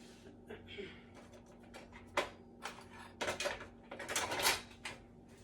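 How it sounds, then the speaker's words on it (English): A spatula scraping the sides of a mixing bowl of chocolate chip cookie dough, soft scattered scrapes and knocks building into a louder run of scraping near the end, close and quiet. "Scraping down the sides of the bowl to make sure I get it all mixed in together."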